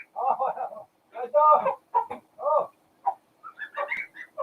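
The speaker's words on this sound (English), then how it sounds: "There is a rooster just by the door." A rooster close by a doorway gives a series of clucking, crowing calls in short bursts separated by quiet gaps, loud and near.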